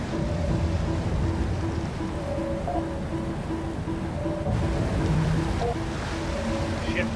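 Water pouring in a continuous rushing roar through a hull breach inside a submarine in Barotrauma, steady and loud, with faint tonal beeps layered underneath.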